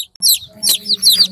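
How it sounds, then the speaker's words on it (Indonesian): Baby chicks for sale peep in quick, high, bright bursts close by, several short cheeps overlapping over a faint low background hum. "Ini anak ayam."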